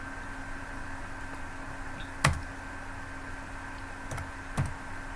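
A few sparse, quiet keystrokes on a computer keyboard, isolated clicks spaced seconds apart over a steady low room hum.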